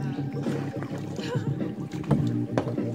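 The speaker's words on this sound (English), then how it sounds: "And this is when we're paddling." Paddles dip and stroke through river water from a small boat, with rhythmic splashes and light knocks repeating close by, steady and unaccompanied by talk.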